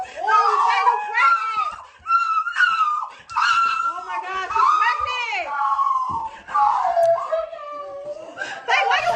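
A woman screams and wails loudly and close in repeated long drawn-out cries with short breaks between them, her voice rising and falling in pitch.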